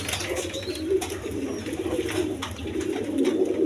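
A pair of red pigeons, a barren breeding pair, coo in low, soft, repeating murmurs close by, steady throughout over a faint hum of background noise.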